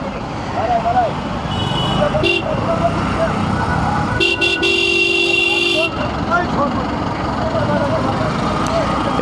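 Car horns honk in a holiday traffic jam, with one short toot and then a long, loud, sustained blast over a constant roar of idling engines and road noise, and voices murmur in the background.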